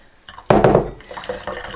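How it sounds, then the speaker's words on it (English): Lukewarm water poured into a container sitting on a kitchen scale while making sourdough bread dough, a short close splashing pour that rises quickly, then settles into a softer trickle with faint clinks. "I'm just putting some water in here because we're actually going to weigh it."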